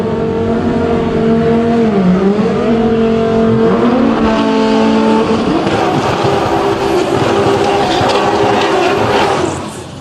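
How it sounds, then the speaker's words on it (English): Drag race pairing of a Nissan GTR against a Lamborghini in the DCT Extreme class: loud, sustained engine roar with rising revs and shifting pitch, filling the whole stretch without pause, close and dominant. "We're going to see a little GTR versus Lamborghini action here."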